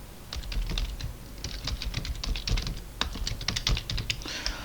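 Fast typing on a computer keyboard while an email address is entered, a quick irregular run of close key clicks and taps with short pauses, alone without talk.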